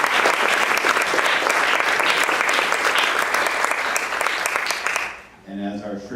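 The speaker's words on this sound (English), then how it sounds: "So if I could, I'd give you a round of applause." Loud, dense applause fills a school board meeting room, then dies away near the end as a voice begins speaking.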